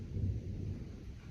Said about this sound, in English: It is thundering in the background.